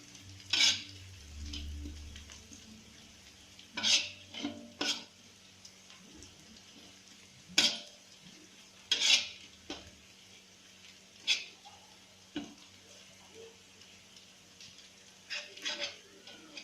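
Garlic is stir-fried for nasi goreng, heard as repeated sharp metal spatula strikes and scrapes against a pan in an irregular rhythm over a faint, quiet background sizzle.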